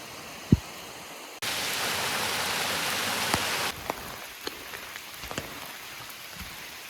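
Rain falls steadily on a forest walk near a waterfall on Whidbey Island, Washington, a dense close hiss that stops abruptly after a few seconds, leaving softer dripping and scattered drops.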